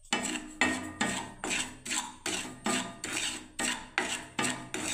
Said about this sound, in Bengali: আমি এই সুজিটাকে ভেজে নিচ্ছি বন্ধুরা